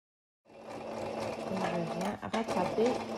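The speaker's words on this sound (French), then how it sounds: "J'utilise le point droit de la machine tout à fait normal et je vais pouvoir commencer à faire ma piqûre de manière régulière." Sewing machine sewing a straight seam on a T-shirt starts after a short silence and runs steadily up close, its whirring stitch rhythm briefly dipping before continuing.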